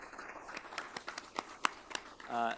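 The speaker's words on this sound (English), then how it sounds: "a round of applause for our Friends of 4-H award" Scattered, uneven hand claps from a small group at a college board of regents meeting honoring a 4-H award, the sharp claps spaced irregularly, ending with a brief voice.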